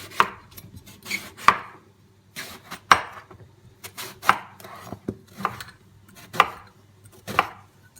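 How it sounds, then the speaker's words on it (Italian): Firm knife chops cutting an eggplant into chunks on a cutting board, irregular strikes roughly every second with small clinks between, close and clear with no talking. "Pulire la melanzana e tagliarla a tocchi."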